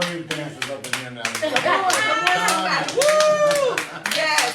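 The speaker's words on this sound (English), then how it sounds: "So clap it up for that." An audience at a senior spring ball event claps loudly in sharp, dense bursts for a few seconds, with cheering voices and shouts mixed in.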